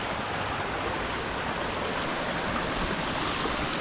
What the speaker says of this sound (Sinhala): ඉතින් අපි තවත් ඇල්ලක් ගාවට ආවා.